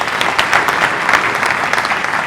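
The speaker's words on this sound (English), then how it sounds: "last round of applause for Christian from Boxergood." Audience applause after a startup pitch at a real estate and construction tech competition, a dense, steady wash of many hands clapping close by and filling the whole stretch with no voices.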